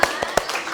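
A group in a classroom-style session claps a short rhythmic spirit clap, three quick distinct claps spaced evenly, with voices around them.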